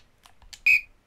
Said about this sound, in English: Listen out for this whistle